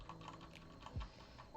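Keystrokes on an NK65 computer keyboard, a short quiet burst of soft, close clicks in an irregular rhythm with no voices.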